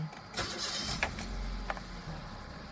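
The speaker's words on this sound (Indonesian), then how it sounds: "mesin matic hanya bisa di start dalam kondisi P dan N" An automatic-transmission car's engine is cranked and started with the gear lever in neutral, a short starter whir followed by the engine catching and settling into a steady idle, close by.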